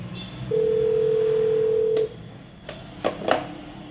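Office desk telephone in Kenya: a steady dial tone holds for about a second and a half, then stops, followed by a few short sharp key beeps and clicks as the number is dialed, close and clear.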